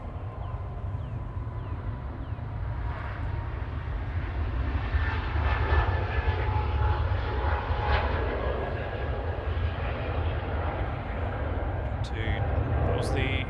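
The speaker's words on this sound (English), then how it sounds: "the EasyJet that's just taken off to Bilbao GUZLR, flight 2005" An EasyJet airliner taking off from Manchester Airport for Bilbao gives a steady, broad jet roar that builds slightly in the middle and holds, heard from a distance with faint talk underneath.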